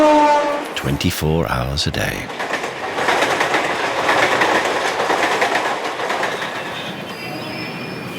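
Suburban trains in Bombay rumble and rattle steadily past at moderate distance, with a brief voice at the start and a faint squeal near the end.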